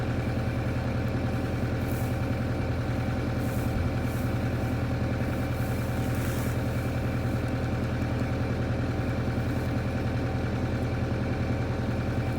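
A farm tractor's engine idles steadily in a continuous, even, close-up drone with a low rumble and no pauses, and no voices are heard over it.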